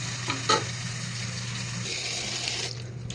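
Water from a tap runs steadily over chopped papaya pieces in a kitchen, with a soft continuous hiss and a few light splashes and clinks near the start.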